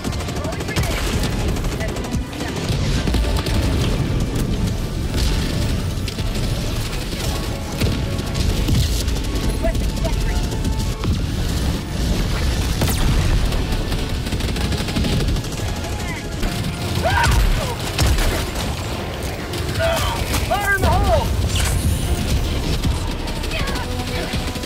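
Air support strike in the shooter game Helldivers II, a continuous dense barrage of blasts and gunfire layered with game noise and voices, loud and sustained with a few sharper bursts.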